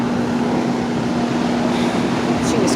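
A 2006 Rheem 3-ton central air conditioner runs with a steady, loud whooshing drone and a low constant hum, unchanging for the whole stretch.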